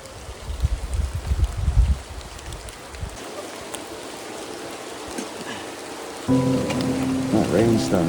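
Rain pattering on a tent at a wild camping spot, a steady fine hiss of drops with heavier low rustling early on and a mechanical hum joining near the end.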